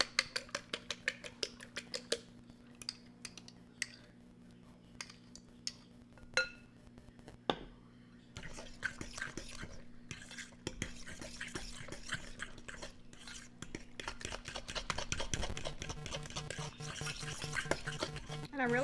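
Sweet potato casserole with beaten eggs mixed by hand in a bowl: faint scraping, clinking strokes, sparse at first, then quicker and busier, with a low steady hum underneath.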